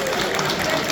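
Audience applause during a talent show vote in a hall, a dense, steady wash of clapping and crowd noise holding at one level throughout.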